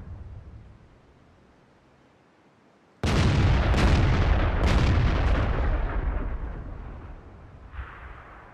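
FV304 self-propelled artillery gun in World of Tanks on the Sand River map fires one loud, sudden blast with a long rumbling decay, followed by a second fainter boom near the end, with no talk over it.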